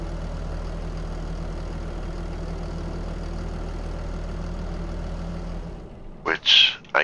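A tractor engine idles in Farming Simulator 25 as a steady, low, even drone. It cuts out near the end, followed by a few short, louder bursts.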